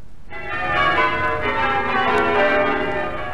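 Church bells peal in a full, ringing cascade through an old Australian radio advertisement from the late 1950s, the overlapping strikes sustained and loud throughout with no voices over them.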